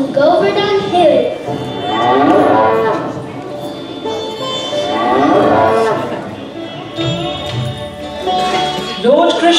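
Cattle lowing in a staged drama about the lifting of Govardhan Hill, several drawn-out moos rising and falling across the scene, loud and close, with chatter from the cast and audience around them.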